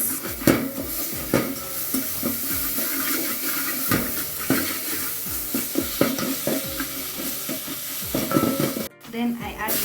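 Tomato paste being stirred in a pot for African potato soup: steady sizzling under repeated rhythmic scraping strokes of the spoon, close and fairly loud, briefly cutting out near the end.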